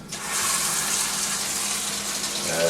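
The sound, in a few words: water poured onto chicken bouillon cube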